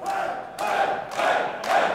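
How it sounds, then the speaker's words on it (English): A live wrestling crowd in Leeds cheering and roaring in rising waves, three loud swells of shouting in under two seconds, close and dense. "this live crowd in Leeds love it"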